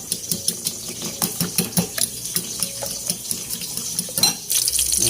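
Eggs with salt and pepper whisked in a bowl for a tinapa-and-egg dish: quick, rhythmic tapping strokes, close and fairly loud, ending in a brief sizzle-like burst.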